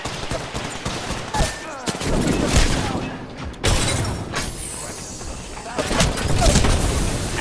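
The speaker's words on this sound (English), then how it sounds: "Throwing frag." Frag grenade blast in a shooter video game, set within heavy gunfire and booms, with several loud bursts and a sharp crack midway, under dense combat noise.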